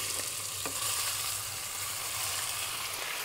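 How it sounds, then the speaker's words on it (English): Pork sizzles steadily in hot oil in a pan for chili verde, a dense, even crackle close by with faint scraping, no talking. "A little bit of sizzling the oil there."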